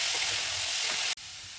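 Spinach greens tossed into a hot frying pan give a loud, steady broadband sizzle and hiss close by, cut briefly by a sharp drop before the frying resumes slightly quieter; no one speaks.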